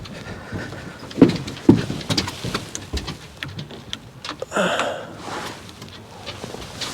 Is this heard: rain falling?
yes